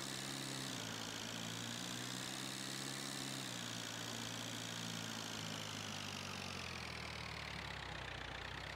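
Modified Indian landi jeep driving on a road in Farming Simulator 22, its engine humming steadily with a slowly shifting pitch, fairly quiet and continuous with no talking.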